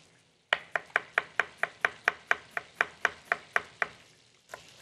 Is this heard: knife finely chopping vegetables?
yes